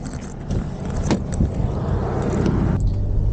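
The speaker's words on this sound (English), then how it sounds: "We got a car coming, so we're gonna hop in." A car approaches on a quiet rural road, its engine and tyre rumble building steadily from a faint distant hum to a louder, nearer roar over a few seconds, with no voices.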